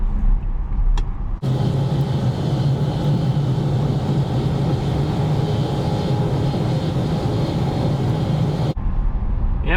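Steady road and tire rumble inside a Tesla driving on light Sunday-noon traffic in Madison, Wisconsin, running continuously for about seven seconds between quieter moments, with no talk.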